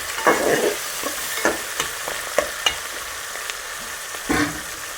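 Stingray fish curry with mint and coriander sizzles in a pan while a spoon stirs it, giving intermittent scraping strokes over a soft, steady bubbling.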